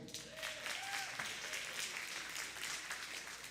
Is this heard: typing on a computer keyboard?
no